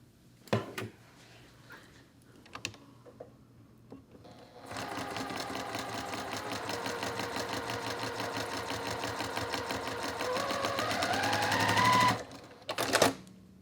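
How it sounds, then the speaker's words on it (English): A domestic sewing machine stitches a quilt block with a quarter-inch seam, running steadily for about eight seconds after some light handling clicks, its rapid needle chatter close and even, then stopping. "I'm just going to sew with a 1/4 inch seam."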